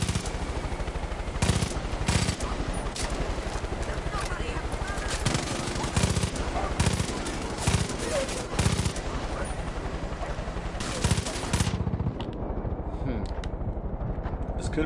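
Rapid automatic gunfire from the video game Far Cry 5, loud bursts of shots in quick rhythmic volleys that continue almost without pause and stop near the end.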